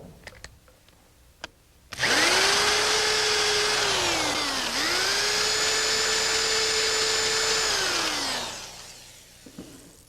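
Power drill with a 3/8 bit reaming dried glue from a dowel hole in furniture, a steady high whine starting abruptly, dipping briefly mid-run, then spinning down to quiet, fairly close.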